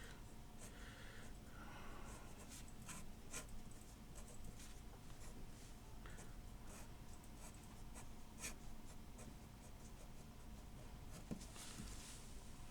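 A pen or pencil drawing a Bauhaus-style design on paper, heard as faint, continuous scratchy strokes with short pauses, close to the page and without talk.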